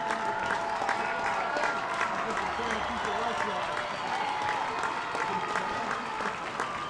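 A baseball stadium crowd claps and cheers at a minor-league game between the Long Island Ducks and Camden Riversharks. The applause is dense and continuous throughout, with a commentator speaking over it.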